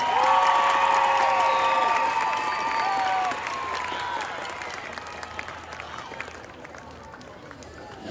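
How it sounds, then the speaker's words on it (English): A crowd applauds and cheers for a metal band, dense clapping with whoops and shouts that starts loud and gradually thins out over several seconds, voices calling out across the room. "I know you've been cheering like crazy"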